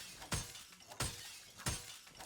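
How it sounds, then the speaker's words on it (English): Three separate glass panes shatter under melee strikes in the PAYDAY 2 video game, each a sharp crash with a short tinkling tail, spaced evenly and fairly quiet. "I follow my rule by using melee on the glass"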